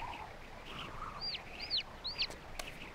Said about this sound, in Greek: Ένα μικρό πουλάκι.